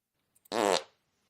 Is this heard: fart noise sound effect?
yes